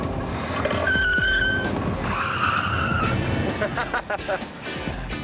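A car brakes hard during a high-speed stunt test and its tires squeal and skid loudly for a few seconds under engine noise, then rumble to a stop while voices are heard.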